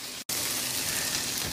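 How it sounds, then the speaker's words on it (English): Squash pieces sizzle in a hot pan with a continuous, fine crackling hiss, interrupted by one brief silent gap near the start. "Here my pan has a nice sizzle and not a splatter."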